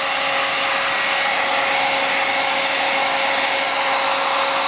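Heat gun blowing hot air to shrink plastic wrap on a Summit Climber cable: constant, loud whooshing airflow with a steady motor whine, close and uninterrupted, no talk.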